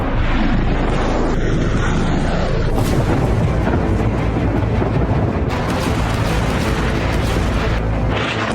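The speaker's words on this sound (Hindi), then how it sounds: "तेहरान समेत ईरान के कई इलाके अमेरिका और इजराइल के बमों से दहल रहे हैं" American and Israeli bombs explode over Tehran and other parts of Iran, heard as a loud, unbroken roar of heavy rumbling blasts that shift in intensity throughout.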